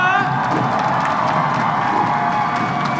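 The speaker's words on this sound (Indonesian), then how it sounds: "Sekali lagi tepuk tangan untuk Tebak Bulu" Crowd cheering, whoops and applause fill the whole stretch at a steady, loud level, celebrating an amateur badminton match event, Tepok Bulu 2022.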